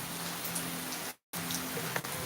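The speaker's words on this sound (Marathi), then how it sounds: "मस्त मस्त पाऊस पडतोय मित्रांनो" Steady rain falls in a soft, even wash at moderate distance, broken once by a brief dropout to silence before the same patter resumes.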